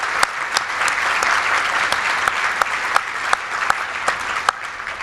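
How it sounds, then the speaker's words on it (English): Audience at a charity breakfast applauds clients and case managers, a steady, full round of applause from a large room with a few sharper individual claps standing out. "let's have one more round of applause for these courageous clients and their case managers"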